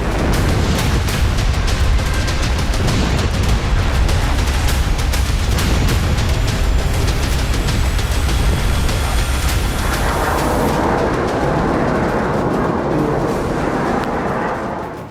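Explosions from an airstrike bombing in Tabriz sound as heavy, rumbling booms over continuous loud crackling and roaring noise. The din fades somewhat toward the end.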